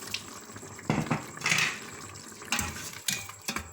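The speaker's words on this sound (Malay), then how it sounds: "Kita masukkan air sikit je" Water splashing in short bursts into a pot of mutton biryani in a pressure cooker, with clinks of the pot between pours, close by and moderately loud.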